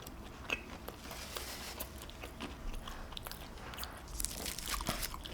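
Someone bites into a Sonic Southwest Crunch Wrap close to the mic and chews it, with repeated crisp crunches and wet chewing sounds in a quiet room.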